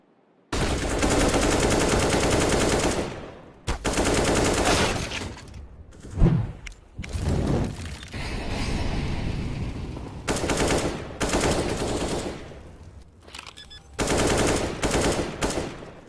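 Rapid automatic gunfire in a PUBG or CS:GO match, long loud sustained bursts broken by brief pauses and a few sharper single cracks, close and dense with no voices over it.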